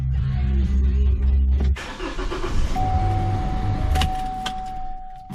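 A 2.8L Duramax diesel in a 2017 Chevrolet Colorado ZR2 cranks and fires, then settles into a loud, close idle for a few seconds with a steady whine and a couple of brief clinks.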